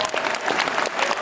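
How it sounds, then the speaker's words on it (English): Audience applause at a Comic-Con panel in San Diego for Assassin's Creed Syndicate, a dense, steady burst of clapping from a large crowd filling the whole brief moment. "we have one more round of applause, please"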